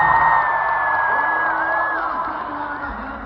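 A rodeo crowd at the Canadian Finals Rodeo cheers and whoops for a tractor driver in a lawnmower race, a sustained roar of many voices that fades slightly toward the end.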